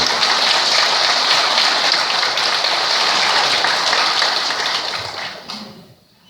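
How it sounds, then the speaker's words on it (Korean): Applause from the congregation at a Buddhist dharma service, a dense, steady wash of many hands clapping that carries on for several seconds and then fades away near the end. "오늘 함께 해주신 우리 보좌님께 큰 박수 한번 보내주시기 바랍니다"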